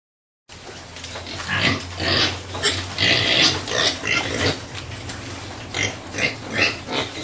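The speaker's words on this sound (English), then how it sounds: "So we are in the pig farm of the African Center for Community and Development." Pigs on a pig farm at a community development center grunt and squeal continuously and close by, with a dense, overlapping chorus of snorts and oinks.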